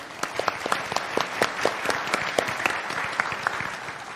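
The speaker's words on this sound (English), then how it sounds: "Round of applause for her, please." An audience applauds a dining services director at a conference on healthy, sustainable foods, a steady round of many hands clapping together, fairly close and sustained without a break, with no one talking over it.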